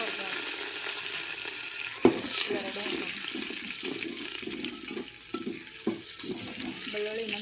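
Garlic frying in oil until golden gives a steady, fairly quiet sizzle throughout, with a few sharp clinks and light stirring sounds close by.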